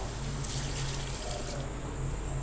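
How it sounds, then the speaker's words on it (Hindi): Water pours from a glass into a cooking pot of meat and spices for kado gosht, a steady close splashing fill lasting a couple of seconds with no talking. "तो मैं 2 गिलास पानी डालूँगी इसके अंदर।"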